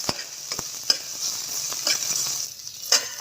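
Green chili and capsicum fry in oil with biryani spices, making a close, steady sizzle punctuated by a few sharp stirring scrapes and taps from a utensil.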